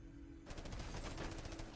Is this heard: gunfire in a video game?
yes